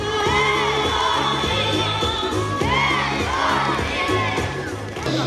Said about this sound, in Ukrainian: Діти гучними оплесками зустрічали бійців та вигукували герої.